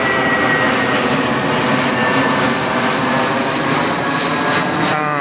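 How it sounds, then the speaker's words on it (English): A loud, steady roar of an airplane passing overhead along Scottsdale Road, filling the whole clip with a broad engine rumble and no voices. "Let me wait till this plane passes."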